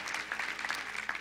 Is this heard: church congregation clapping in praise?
yes